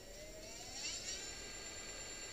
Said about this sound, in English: this is a regular 750 watt motor at 60 volts